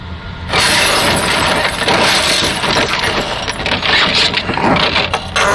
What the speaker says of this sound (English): Jenny, the bang of the windscreen crashing was loud